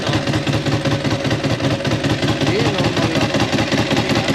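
A Ducati motorcycle engine idles loudly and close, with a steady rough pulsing throb that holds for the whole stretch.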